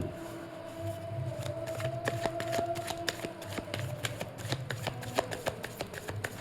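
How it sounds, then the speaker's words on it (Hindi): Tarot cards being shuffled by hand, a close, quiet run of rapid riffling flicks and soft card slaps repeating steadily, with a faint background tone and no talk. "सबसे पहले मैं कार्ड्स को शफल कर लेती हूँ।"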